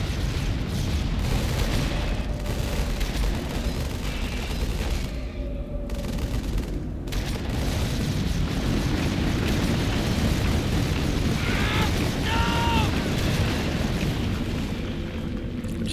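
Explosions from blowing up Flood pods in the real-time strategy game Halo Wars, a dense rumbling barrage of booms and blasts that continues steadily under battle noise with no pauses.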